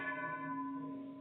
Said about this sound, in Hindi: घंटी बज चुकी है।